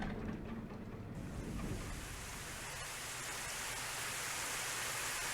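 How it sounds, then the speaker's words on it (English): Steady broadband hiss of falling rain, a dense wash of patter that thickens after the first second and carries on evenly throughout. "The first thing I could hear was the sound of rain."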